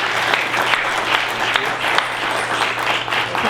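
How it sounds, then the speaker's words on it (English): Sustained applause from a conference audience at an engineering Q&A session, dense even clapping holding steady at moderate loudness from start to finish. "let's have a round of applause for everybody else"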